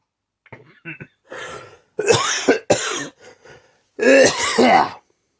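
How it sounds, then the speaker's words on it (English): A person coughs and clears their throat several times up close, the bursts growing louder and harsher, with short pauses between them. "I'm sorry about the coughing again"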